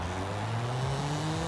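A BMW E30 M3 engine revs in the Forza Horizon 5 racing game, a steady, close, buzzing engine drone that holds its pitch with a slight rise through a brief burst.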